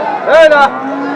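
A cow gives a single short, nasal moo at a busy rural cattle market, heard over a steady background hum.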